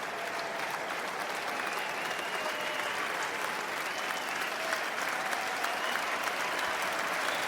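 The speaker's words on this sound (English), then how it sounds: "Now the applause is for Jack Knoll and Nick White as they make their way off." A rugby crowd at the Exeter Chiefs v Bath match applauds steadily as Jack Nowell and Nick White leave the field, a dense, even wash of clapping sustained throughout without a break.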